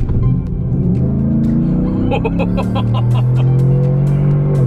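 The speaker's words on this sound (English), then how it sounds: "give a full throttle pull" A 2017 GMC Yukon Denali with a cold air intake accelerates at full throttle, its engine note climbing steadily in pitch, loud and close from inside the vehicle.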